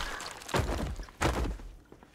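A zombie in Project Zomboid collapses to the ground, two dull thuds about half a second apart, close and fairly loud, with no talk over them.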